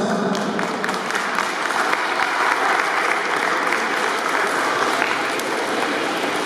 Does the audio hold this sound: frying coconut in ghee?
no